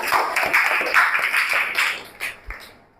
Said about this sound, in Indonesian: beri aplaus untuk Aisyah